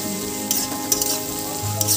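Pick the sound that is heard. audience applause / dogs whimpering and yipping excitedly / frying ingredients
frying ingredients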